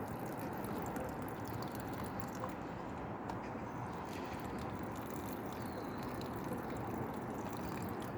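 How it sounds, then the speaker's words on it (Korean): Water pours steadily onto potted pepper plants on a balcony, a faint continuous splashing trickle with no breaks, low in level throughout. "고추에도 물 주고"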